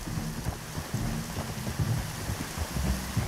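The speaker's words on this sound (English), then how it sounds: "You were right about the damn rain." Steady rain in Red Dead Redemption 2 patters across a surface with a low rumbling undertone, a continuous wash of drops with no voices.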